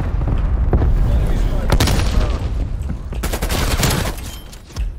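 Dense rapid gunfire and explosions from a Call of Duty Black Ops match on the Nuketown 84 map, loud bursts of automatic fire and booms continuing throughout.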